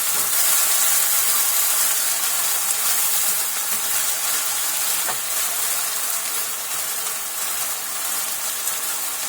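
Rice and shrimp are stirred together in a frying pan, a loud continuous sizzle and hiss with faint scraping running throughout, no voices.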